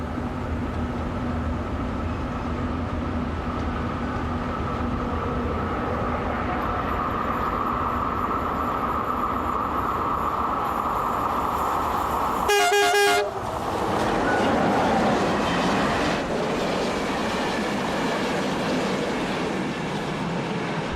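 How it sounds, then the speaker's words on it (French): An SNCF CC 6500 electric locomotive hauls a freight train on the international line, its steady rolling rumble and wheel noise running throughout, broken midway by a single short, loud blast of the horn close by. "Cette fois encore, la 56 sort du dépôt pour assurer un train de fret sur l'axe international"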